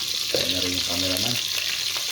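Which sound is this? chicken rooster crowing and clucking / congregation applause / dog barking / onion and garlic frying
onion and garlic frying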